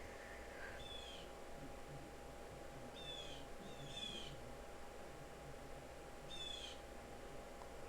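Birds call outdoors in short, faint chirping bursts spaced a few seconds apart over a steady background hum, quiet and somewhat distant.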